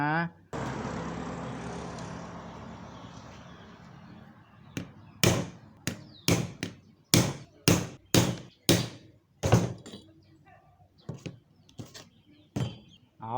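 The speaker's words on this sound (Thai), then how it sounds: "แล้วเราก็ใช้ค้อนตอกใช้ค้อนตอกตรงนี้ ค่อยๆตอกลงไปนะ" A hammer taps a bushing down onto the shaft of a stand fan in about a dozen sharp, evenly paced strikes that land close and loud, following a stretch of broadband noise with talk in the background.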